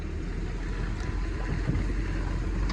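A tractor drags a large plough through a wet sunflower field, a loud, steady low engine rumble with wind noise buffeting the microphone throughout.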